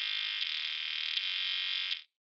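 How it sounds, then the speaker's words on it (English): A sustained, buzzing overdriven guitar tone from the Crest overdrive model rings out steadily, thick and saturated, then cuts off abruptly near the end. "That's some really nice overdrive."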